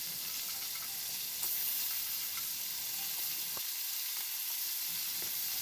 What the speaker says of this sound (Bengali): কাঁকড়াগুলোর দু পিঠই আমি ভালো মতো ভেজে নেব।